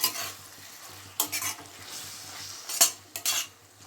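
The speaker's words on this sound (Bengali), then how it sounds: "এবার বেশ খানিকটা টমেটো সস দিয়ে দেবো আর দেবো সোয়া সস এবার সব একসাথে মিশিয়ে দেবো" Tomato sauce and soy sauce stirred together in a pan for red sauce pasta: a steady sizzle with repeated scraping spoon strokes and a few sharper clanks against the metal, close up and with no talking.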